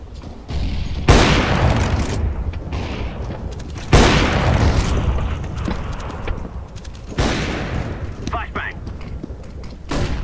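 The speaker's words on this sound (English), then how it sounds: "Grenade out." Loud grenade blasts in Counter-Strike: Global Offensive, three sharp booms spaced a few seconds apart, each followed by a decaying rumble, with players talking over the game sounds.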